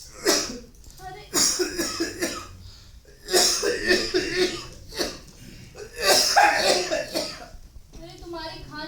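Someone coughs repeatedly in harsh bursts in a domestic scene from a Hindi film, with talking in between the fits.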